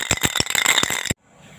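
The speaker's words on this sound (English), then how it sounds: "shaking the bottle, we can now start painting" A spray paint can is shaken hard for about a second, its mixing ball clattering in fast, loud rattles before stopping abruptly.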